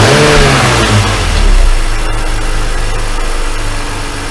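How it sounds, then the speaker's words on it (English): A BMW E46 330i with the M54 inline-six engine runs loud and close, revving up briefly near the start and then easing back toward a steady idle hum. "let's let it run up to temperature, and then we'll check the revs a little bit with a little bit higher revolutions"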